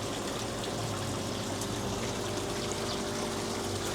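Water flowing out of a tank into the first biofilter barrel, a constant splashing trickle with a steady pump-like hum underneath and no talk.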